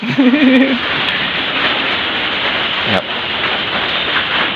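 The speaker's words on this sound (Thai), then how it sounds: "ฝนตกนะครับ" Rain falls outdoors over rice fields as a steady, close hiss. A brief voice is heard at the start.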